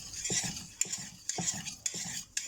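Salt is stirred into a bay laurel potion, a spoon scraping and swirling around the container in a quiet rhythm, with several sharp clinks of metal against the side.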